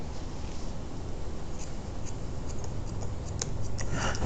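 Scissors snip through hair while cutting a blunt, square horizontal line. Crisp, close clicks come in a loose run, thickening toward the end over a soft background hiss.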